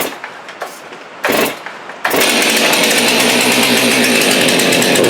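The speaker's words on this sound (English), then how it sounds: "it's a snappy saw" A Stihl MS362 chainsaw with no primer bulb, on full choke, catches after a couple of short pull attempts and then runs loud and steady at high revs, close by and with no talk.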